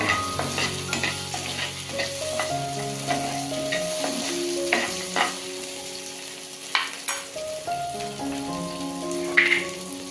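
Oil frying and stirring in a pan for an onion-tomato gravy, a steady close sizzle punctuated by scraping spoon strokes and clinks, with a tonal hum running underneath.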